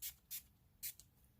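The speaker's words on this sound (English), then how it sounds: "I'm just gonna spray just a little bit." Little Barn aloe and rosewater balance face mist is sprayed in three quick, faint hissing puffs close by, with short pauses between them in an otherwise quiet room.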